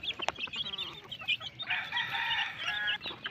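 Pet chicks at feeding time, a close cluster of high, sharp peeping calls, a few quick chirps then a sustained shrill chorus, faint and busy with no talking.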